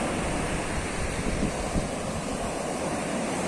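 Sea waves wash onto the shore in a continuous broadband roar, mixed with wind buffeting the microphone, steady and fairly loud with no voices.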